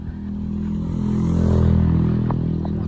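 A motorcycle engine drones steadily and loudly, straining up a steep hill in Dago Utara, Bandung, with a low, continuous rumble and some rattling, no talking.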